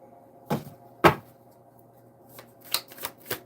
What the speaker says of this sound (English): that was a shitty shuffle.